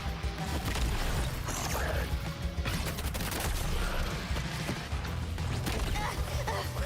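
Airstrike explosions and heavy gunfire from the combat video game Suicide Squad: Kill the Justice League, a dense, continuous barrage of booms and crashes filling the whole stretch at steady loudness.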